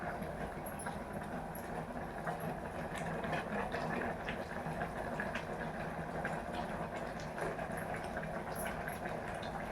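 Cooking greens such as siru keerai, thandu keerai, mudakathan and tulsi leaves boiling in a pot, a steady bubbling hiss that runs unbroken and moderately loud throughout, with no talking.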